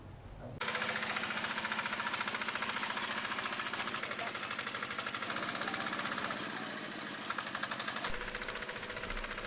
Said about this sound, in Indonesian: Petani tersebut membuat traktor pembajak sawah yang digerakkan dengan remote control